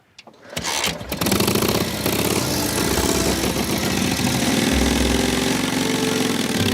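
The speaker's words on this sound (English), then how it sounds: "Sounds like an old tractor." An old motorcycle engine sputters to life, then settles into a loud, steady, chugging idle that rumbles close by, like a tractor, with no talking.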